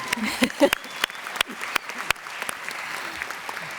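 Graduates and guests at a 2022 New York City spring commencement ceremony break into scattered applause. A few sharp, distinct claps ring out over a thinner crowd patter that gradually fades.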